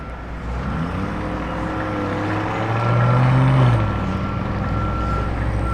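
A Lamborghini Urus pulls out through opening gates, its engine a steady, fairly loud rumble that swells briefly as it passes near, then holds at a constant drone with no one talking.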